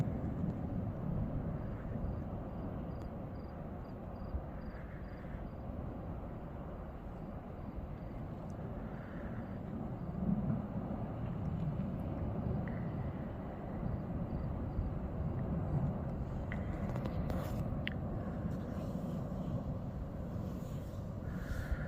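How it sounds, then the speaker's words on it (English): A drone flies over the area of the Tajogaite volcano eruption on La Palma, Spain, as a faint, steady, distant hum blended with broadband outdoor noise, with no one speaking. "That is a drone flying."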